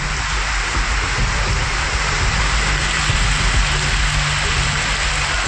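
Heavy rain pouring over the Siva temple complex at Tiruchendur, a loud, steady, unbroken hiss of downpour.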